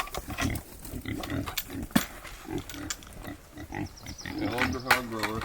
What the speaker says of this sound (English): Now we've been feeding these pigs whatever we can get our hands on.